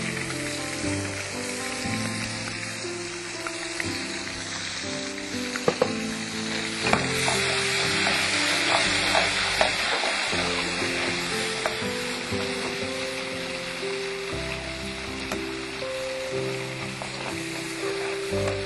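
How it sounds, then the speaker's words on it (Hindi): Masala of onion, ginger-garlic paste, turmeric, chilli and curd fries in a pan, a dense continuous sizzle with the patter-like crackle of rain, overlaid by music and occasional spoon scrapes, no voices. "मसाले को बहुत अच्छी तरह से भूनना है"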